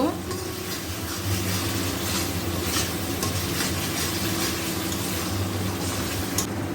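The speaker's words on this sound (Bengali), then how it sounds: "এখানে ভালো করে মশলাটা আর একটু নাড়ব" Masala for egg korma stirred in a hot pan, with a continuous close sizzle and frying hiss, and a soft spatula scraping through it as the spices are worked around.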